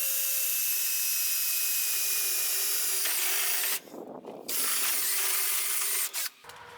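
A power drill re-drills a steel bracket on an International tractor radiator, a loud steady whine running for about three seconds, then shifting into rougher grinding bursts with short pauses before cutting off near the end.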